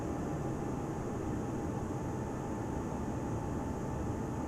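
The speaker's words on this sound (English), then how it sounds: "So we're just taxiing to the runway." Airbus A320 taxiing to the runway in Microsoft Flight Simulator 2020 with cabin sound effects, a steady, fairly loud broadband engine hum and rumble heard from inside the cabin, unchanging throughout.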